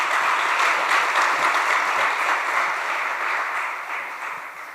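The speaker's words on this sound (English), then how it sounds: "Can we have another round of applause, please, just for him?" Sustained applause from an audience after a talk at a devotional talk show, dense, even clapping that holds steady and slowly fades toward the end, with no speech over it.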